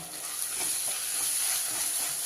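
A tomato and three green chillies sauté in a pan, producing a continuous soft hiss and sizzle with faint crackling, heard alone and close.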